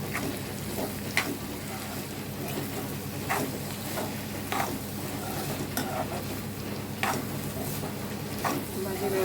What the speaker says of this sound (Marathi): आपल्याला साधारण हे आठ ते दहा मिनटं झाकण ठेवायचं आहे तेवढ्या वेळामध्ये आपली भाजी ही मंद आचेवरती शिजू द्यायची आहे